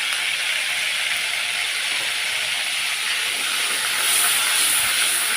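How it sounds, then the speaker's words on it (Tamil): One spoon of ginger garlic paste sizzles in hot oil for a butter beans gravy, a steady loud hiss of frying that swells slightly near the end, with no talk. "இதில் வந்து நான் 1 ஸ்பூன் இஞ்சி பூண்டு பேஸ்ட்டு போடுறேன்."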